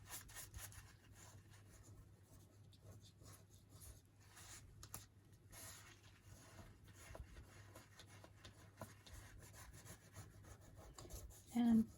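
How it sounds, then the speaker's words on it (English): Thumb burnishing the edges of paper snippets down onto a glue book page, giving a faint, continuous soft rubbing and scraping that runs unbroken close by. "I'm just really burnishing the edges down with the back of my thumb as best I can"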